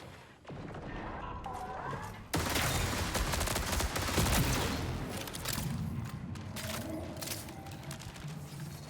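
SMG gunfire in the Marathon video game sounds as dense bursts of rapid shots that start abruptly and stay loud, mixed with other game effects and mechanical clatter.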